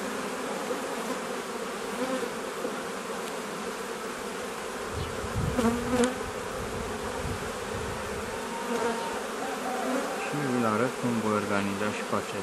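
Honeybees buzzing steadily around an open hive while frames are moved to remove the divider board, a dense continuous drone close by, with wooden knocks and a person talking at times.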